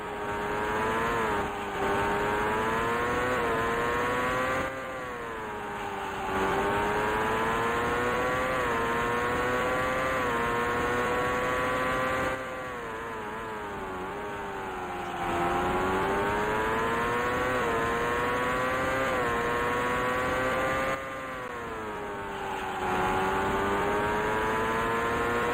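A 1989 CART IndyCar engine screams continuously in the racing game IndyCar Racing II, its pitch rising through each gear and dipping at shifts and braking zones, close, loud and unbroken by any voices.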